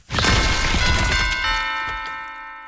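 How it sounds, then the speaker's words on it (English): Bells ring out on a kill in the horror game FPE:S, a loud metallic strike with long sustained ringing tones that slowly fade, heard alone without talk. "whenever you kill someone, bells play."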